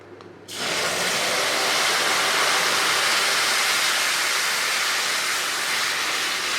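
Tamarind water poured into a hot tempering pan for temple-style puliyodharai, bursting into a loud, steady broadband sizzle after a brief quiet start and hissing continuously without talk.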